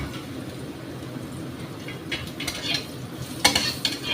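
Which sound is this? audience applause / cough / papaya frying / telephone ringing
papaya frying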